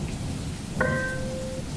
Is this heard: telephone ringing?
no